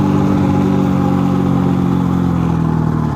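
A Templar M motorcycle engine screaming at high revs in fifth gear during a top-speed run, a loud steady drone with faint wind noise, no voices.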